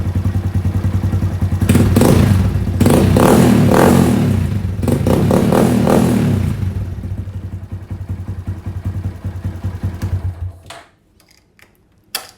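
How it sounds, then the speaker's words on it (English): A Honda Grom motorcycle engine idles loud and close, gets revved in a few sharp bursts, settles back to a steady idle, then shuts off, leaving near silence with a couple of small clicks. "So it idles pretty nice. Let's wait a second and give it a nice rev."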